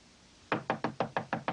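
Seven firm knocks on a door, evenly spaced and close, sounding alone after a brief quiet moment in a 1970s American sitcom scene.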